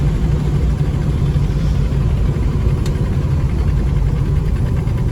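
A Plymouth Road Runner engine runs steadily to build crank pressure during a transmission leak check, a loud, constant low rumble with no change in pace and no voices.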